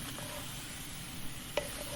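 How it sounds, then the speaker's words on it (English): Vegetables coated in herbs, spices and juices sizzle softly in a frying pan as they are stirred, a quiet steady hiss broken by a couple of brief scraping clinks from the stirring. "Let them sizzle in."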